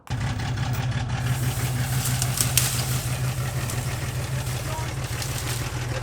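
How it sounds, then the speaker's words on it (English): A lifted Chevy S10 Blazer with a 110-horsepower V6 runs in 4x4 as it pulls out a rose bush, its engine holding a steady, fairly loud drone throughout. "To demonstrate what 110 horsepower of V6 Fury can do, I'm gonna yoink this rose bush."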